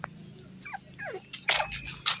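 Beagle, Shih Tzu and Golden Retriever puppies play-fight nearby, giving short whimpers, yips and squeaky whines with soft growly scuffling between them.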